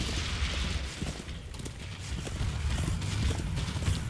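Horse hooves clip-clop in the video game Darksiders II, a busy stream of hoof beats mixed with impacts and combat noise, steady and fairly loud throughout.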